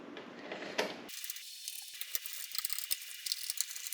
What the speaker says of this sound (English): So I'll just screw these in place